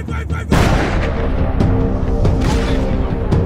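Suppressive gunfire in the shooter game Max Payne 3: dense, loud bursts of shots and booming impacts break in abruptly and continue without pause, with occasional sharper cracks over the constant roar.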